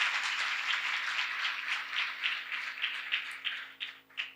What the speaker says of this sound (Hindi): जोरदार तालियों में कलाम को वेलकम करेंगे।